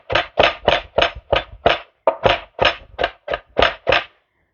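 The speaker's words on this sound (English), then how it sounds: "my spoon is banging around here on my board" A spoon knocks against a wooden cutting board in a steady run of about a dozen close, hollow thunks with short, even gaps between them, loud and alone.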